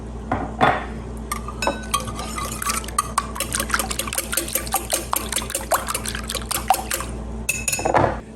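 Milk and cream are poured into a baking dish for a breakfast strata, with a liquid splash among frequent sharp clinks of dishes and utensils, close and moderately loud.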